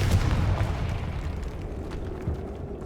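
A Confringo explosion spell goes off in the video game Hogwarts Legacy inside a tomb, a deep rumbling blast that is loudest at the start and fades out over a few seconds.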